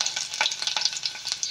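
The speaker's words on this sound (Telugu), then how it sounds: "ఆయిల్ పోసుకున్న తర్వాత కొన్ని పోపు దినుసులు వేసుకోవాలి." Tempering spices such as fenugreek, mustard seeds, ajwain, cumin, cloves and chopped garlic frying in hot oil, a dense crackle of rapid pops and sizzles, close and continuous with no talk.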